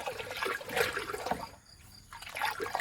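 Liquid fertilizer mixed with an adhesive in water, meant for rambutan trees, sloshes and swirls as it is stirred by hand, in uneven close splashing bursts with a short quieter gap in the middle.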